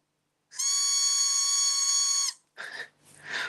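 A toy whistle blown once in a steady, shrill tone lasting nearly two seconds, close and loud, followed by a couple of short breathy rustling bursts.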